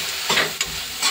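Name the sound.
frying helencha greens in a pan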